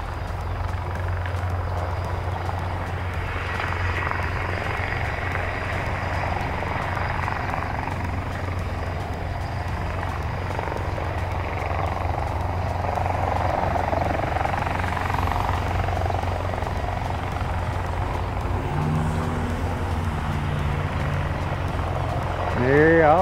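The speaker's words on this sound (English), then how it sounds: "it looks like a military helicopter just hovering over there" A military helicopter hovers some distance off near an airport, its steady rotor drone and low rumble continuing without a break through the whole stretch, with faint wind and ambient noise alongside.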